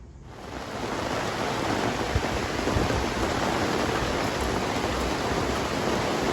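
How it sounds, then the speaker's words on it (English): Steady summer storm rain pours down on a garden, a dense continuous hiss with a low rumbling undertone, fairly close and unbroken throughout. "The rain was supposed to hold off more or less for another few hours"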